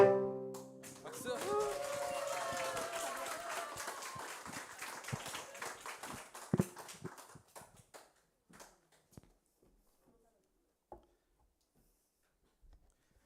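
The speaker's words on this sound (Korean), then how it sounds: "다시 한번 박수 주세요" A church congregation claps during a Sunday worship service, the applause loud and dense at first and then breaking into scattered claps and taps that fade toward near silence.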